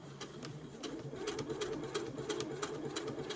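A sewing machine stitches along a slipper seam, a close, steady mechanical hum with a quick regular rhythm of light needle ticks running throughout.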